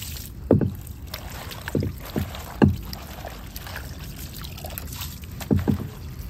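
Fresh garden spinach is washed in water, with several splashy sloshes at irregular intervals, close by, and no talking.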